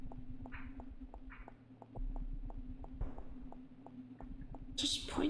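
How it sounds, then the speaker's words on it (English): Footsteps on stone in a video game tick in a regular rhythm, faint and close over a low droning background, with a brief louder noise at the end. "Oh, I like that the footstep sound changed to something more walkie sounding."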